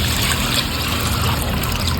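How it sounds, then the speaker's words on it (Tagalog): Water poured into simmering sinigang broth with tuna and banana blossom, a loud continuous splashing trickle close up with no speech. "Maglagay na tayo ng sabaw ng tubig."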